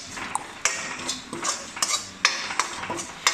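A metal spoon scrapes and clinks against a pan while garam masala and other spice powders are stirred in for aloo bhindi masala, giving a run of irregular close taps and scrapes with no talking.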